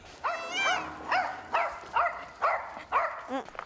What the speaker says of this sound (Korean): 한성이가 짖을 때마다 심기가 영 불편해 보이는 뭉치.